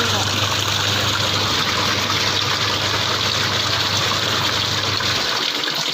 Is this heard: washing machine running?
yes